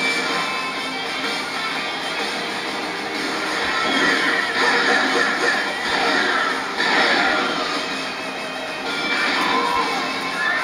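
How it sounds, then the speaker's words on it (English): A horse in the Dynasty Warriors 5 Xtreme Legends video game whinnies loudly and repeatedly over a busy battlefield din, with hoofbeats and clashing noise underneath. "Oh, fucking horse!"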